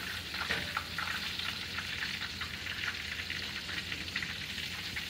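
Steady crackling sizzle of swamp rabbit meat frying in hot oil, a continuous close hiss with small pops throughout.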